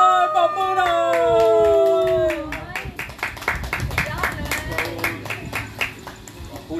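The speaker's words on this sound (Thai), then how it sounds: "ปรบมือหน่อย" Clapping from fans at a football club prize draw at a Nonthaburi stadium, scattered sharp claps following a sweeping tonal sound, with a voice talking over it.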